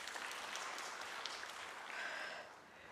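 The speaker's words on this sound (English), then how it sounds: "Let's give him a round of applause again" A seated conference audience at a World Skills South Africa event claps steadily for a few seconds after a presentation, a dense, even patter that fades at the end.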